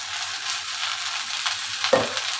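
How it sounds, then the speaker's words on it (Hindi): Okra frying in a pan gives a steady, close sizzle with constant crackle and a few louder pops and stirring scrapes near the end. "भिंडी हमारी हल्की सी फ्राई हो चुकी है।"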